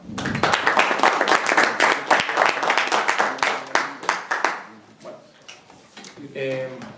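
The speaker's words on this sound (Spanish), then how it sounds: "Así que también pido un gran aplauso para poder empezar con el tema." Audience applause to open a talk at a labor reform forum, a burst of sharp claps for several seconds that fades out before a voice speaks.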